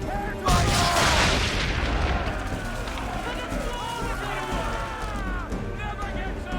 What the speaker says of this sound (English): Now give the swivel guns a turn.